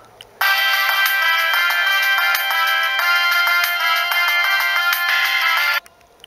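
A Siemens C6V mobile phone, a Vodafone variant of the C65, plays a loud, close polyphonic ringtone melody for about five seconds, starting and stopping abruptly.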